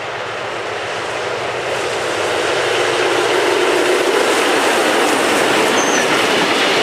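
A toy train rumbles along continuously, a steady loud rolling wash with a faint squeal that builds slightly toward the end, no talk over it.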